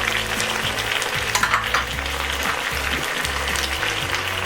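Sauce sizzles hard in a cast iron pan for crispy chilli beef, a steady loud frying hiss running the whole way with a few clatters of stirring over it.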